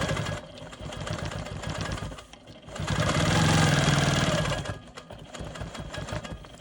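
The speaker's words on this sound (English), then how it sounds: "Now I can proceed with my straight line quilting." Sewing machine stitching straight lines of quilting across a star block, a steady mechanical whir that runs in short bursts with a louder sustained run in the middle.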